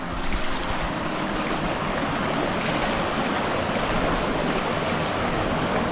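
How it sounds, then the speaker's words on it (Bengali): A strong stream current rushes at a natural swimming spot at Shivkhola near Siliguri, a loud continuous roar of churning water, close and unbroken with no voices. "এই জায়গাটা দেখে নাও জলের স্রোতটা এখানে একটু বেশি আছে"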